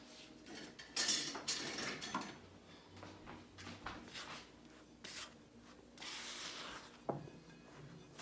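A spatula scrapes scone dough out of a mixing bowl with close, uneven scraping and rubbing strokes, occasional clinks and knocks of utensil on bowl, and a sharper tap near the end, with no talking.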